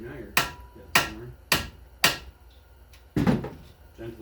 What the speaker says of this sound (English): Never whack your power tools with hammers.